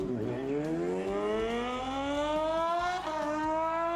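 A Ducati Panigale V4 sport motorcycle with a MotoGP-derived engine revs hard, its loud, buzzing engine note climbing steadily in pitch with a brief dip near the end, heard alone and close.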